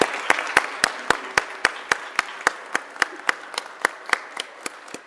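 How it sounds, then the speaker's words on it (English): Steady, evenly spaced clapping rings out close by at a city council meeting, a single sharp clap repeating about three times a second with no voices. "I'd ask my colleagues to help join me in a round of applause"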